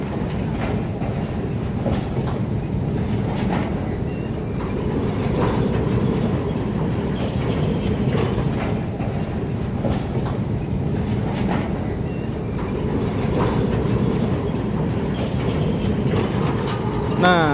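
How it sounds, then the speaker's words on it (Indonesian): A Semboro sugar mill lorry train hauled by a diesel Hokuriku locomotive rolls over rails near a diamond crossing. It gives a loud, continuous rumble with rhythmic clickety-clack wheel beats close by throughout. "melihat kereta lori pabrik gula Semboro ini"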